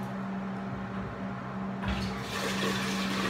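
Water drains out of a tub after the stopper is pulled, a steady close rushing and gurgling flow that grows louder and fuller partway through, with no voices.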